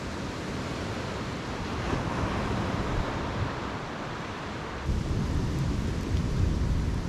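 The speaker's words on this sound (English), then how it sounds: "right now it is raining a lot, so I don't know, we've got this storm coming over" Heavy rain pours down during a storm at a camping spot, a dense, steady hiss that swells slightly midway, with no talking.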